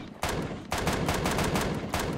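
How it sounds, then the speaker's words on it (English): A pistol fires in the video game Empyrion Galactic Survival: three loud, close shots, each followed by a dense, sustained blast of noise. "We're going to hit him with the pistol."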